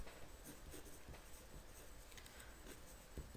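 A pen scratches steadily across a sheet of paper while working out a math check, a soft, continuous scribbling heard up close and faint, with no talk.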